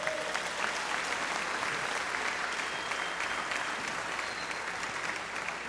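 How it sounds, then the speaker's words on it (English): Graduating students at a school graduation ceremony give themselves a sustained round of applause: dense, even clapping from a large crowd, holding steady throughout with no voices standing out. "Give yourselves a round of applause."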